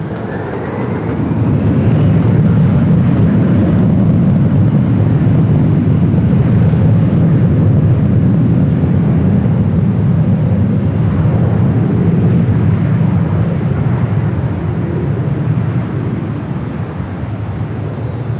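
An airliner takes off at Los Angeles LAX, a loud, sustained jet roar that swells in and holds steady, rumbling broadly as the aircraft accelerates nearby, with only a faint voice in the background.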